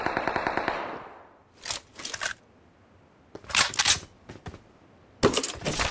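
Bursts of automatic gunfire from a desert-setting shooter video game, several separate volleys a second or so apart after an opening rattle, crisp and fairly close, with quiet gaps between.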